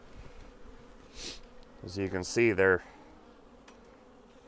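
Honey bees from a swarm hum faintly around an open hive during installation, a low steady buzz beneath someone speaking nearby.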